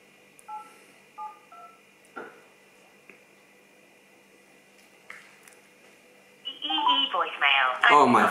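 Telephone keypad dialing tones, several short separate beeps in a quiet room at 3 AM, a few more bleeps following, then people talk loudly over the end.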